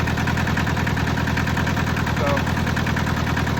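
A small, rusty Hinomoto tractor engine idles steadily and close by, with a constant low, chugging throb and no change in pace; one short spoken word is heard over it.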